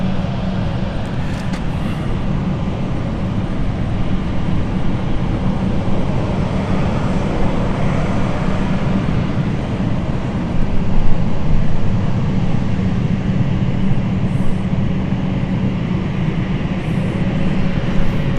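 British Airways Embraer 190 airliner at London City Airport, a loud continuous jet engine roar holding steady for the whole stretch with no talk over it.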